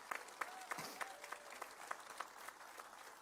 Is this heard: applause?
yes